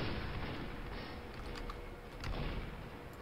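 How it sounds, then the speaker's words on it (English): Gunfire in Team Fortress 2: dense rattling shots and impacts, fairly loud and continuous, with a few sharper cracks standing out. "Who's shooting me?"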